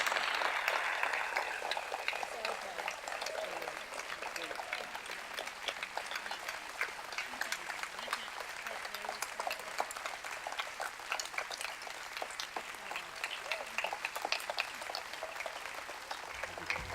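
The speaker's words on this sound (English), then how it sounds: "Let's give Averil a round of applause" An audience claps steadily for the whole stretch, a dense and even patter of many hands that stays level and full from start to finish with no pause.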